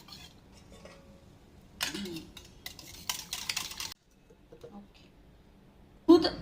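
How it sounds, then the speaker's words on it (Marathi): A spoon stirs and clinks against a container while yogurt is thinned for dahi tadka, with intermittent scraping bursts and short pauses, fairly close and moderately quiet. "दही आधी असं चमच्याने पातळ करून घ्यायचं"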